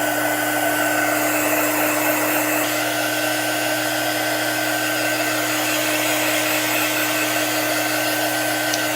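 A hair dryer blows steadily and loudly up close, drying chalk paint on a wooden apothecary cabinet, its constant whirring drone unbroken for the whole stretch with no voices.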